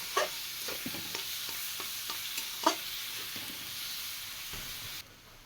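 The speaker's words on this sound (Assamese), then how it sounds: "মছলা ধুনীয়াকৈ ফ্ৰাই কৰা হৈ গ'ল" Spice masala with tomato sizzles and crackles in a hot pan, a steady bright frying hiss broken by a few stirring scrapes, close and continuous until it suddenly cuts off near the end.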